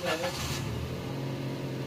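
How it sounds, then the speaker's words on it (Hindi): A car engine with an idle fault firing up on the self-starter: a brief noisy burst of cranking and catching, then a low, steady running hum that settles in close by. "अभी सेल्फ लगा कर ना आपको इंजन का साउंड चेक करवाते हैं"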